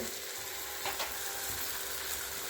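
Coriander powder, turmeric and other ground spices fry over cooked onion and tomato in a pan, a dense continuous sizzle with a couple of faint scraping stirs, steady and close.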